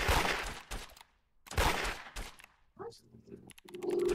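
Gunfire during a raid in a shooter video game, coming in loud broadband bursts separated by short gaps, with a voice talking over the later part.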